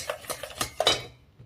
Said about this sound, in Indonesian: Aduk sampai tercampur rata supaya nanti tidak ada yang menggumpal